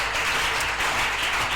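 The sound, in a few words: audience applause in church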